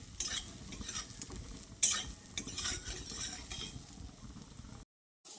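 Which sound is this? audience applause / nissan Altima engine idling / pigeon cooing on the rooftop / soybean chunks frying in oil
soybean chunks frying in oil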